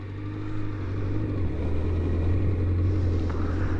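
A motorcycle on a practice track brakes with both brakes and turns back, its engine a steady low rumble throughout, idling close by with a slight rise partway, no talking.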